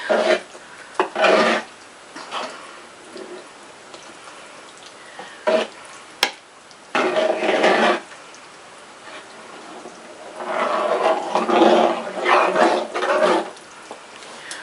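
Ingredients being stirred into a homemade soup, a series of wet scraping, sloshing strokes in separate bursts with quiet pauses between them, close to the microphone.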